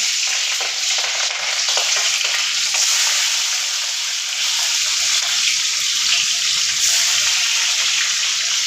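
Chopped onions sizzle and crackle in hot oil in a kadai, a dense, steady frying hiss close up with occasional stirring and no talking.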